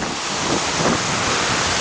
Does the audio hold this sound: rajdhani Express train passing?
no